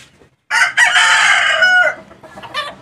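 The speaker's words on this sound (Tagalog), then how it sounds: "Pakita ko yung mga manok nila." A rooster crows loudly and close by in one long, drawn-out call, followed by a short clucking squawk from the chickens.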